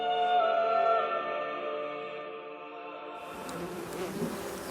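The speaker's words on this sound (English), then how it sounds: "Think about the angry bees." Honeybees hum in a sustained, layered drone close by, the buzzing steady and tonal before giving way to a rougher, noisier texture near the end.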